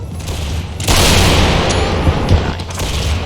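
Musket fire and booming volleys in a War of Austrian Succession battle game, a loud sustained roar of gunfire that swells abruptly and stays dense throughout, with a few sharper shots poking through.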